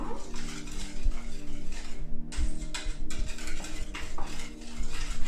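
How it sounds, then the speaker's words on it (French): A whisk clatters rapidly against a bowl while vanilla cupcake batter is mixed, a dense, continuous close-up scraping and clinking with brief pauses in the rhythm. "Tu peux mettre une petite pincée de vanille en attendant et tu mélanges. Mélange avec ton fouet."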